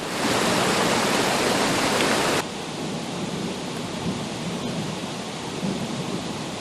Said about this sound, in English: The 20-inch culvert just couldn't handle this much water.